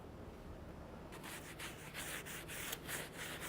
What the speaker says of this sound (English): then I'll take the wire brush to it